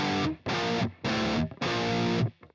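Distorted electric guitar playing a riff slowly, four sustained crunchy chords in a halting rhythm with short gaps, ending in a faint scrape.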